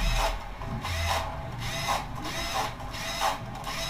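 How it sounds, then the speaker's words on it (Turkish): Screws are tightened on the busbars of an apartment fuse panel with a power screwdriver, giving a run of rhythmic whirring and ratcheting bursts about every half second, close and steady with no talking. "Vidalarını sıkalım güzelce, gevşek kalmasın."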